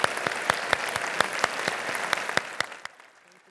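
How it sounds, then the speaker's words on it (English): Applause for a panel at a benefit breakfast, with several sharp individual claps standing out over a smaller crowd's clapping that tapers off and fades after about three seconds. "Let's end with a round of applause."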